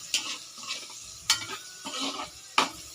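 Tofu (tokwa) and kangkong cooking in a pan for adobo, a soft sizzle broken by several sharp scrapes and clinks of a utensil stirring against the pan, close and without talk.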